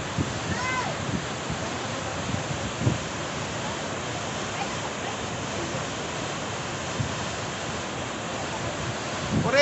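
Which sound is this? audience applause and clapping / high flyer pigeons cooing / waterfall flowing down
waterfall flowing down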